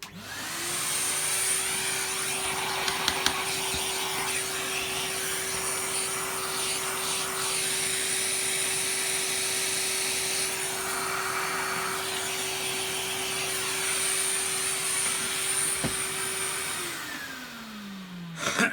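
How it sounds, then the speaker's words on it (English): Hoover Turbopower Junior U1220 upright vacuum cleaner running steadily up close, a loud continuous motor whine with airflow roar that holds for many seconds and then winds down at the end. "let me just vacuum this as well"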